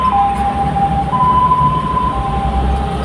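An ambulance siren stuck in heavy traffic on EDSA gives a loud, steady wail that shifts between two close pitches, with traffic rumble underneath.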